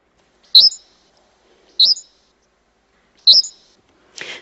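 Three sharp, high bird chirps from a birdsong recording played at full speed sound at regular intervals against near silence, each brief and bright, with a short rustle at the end.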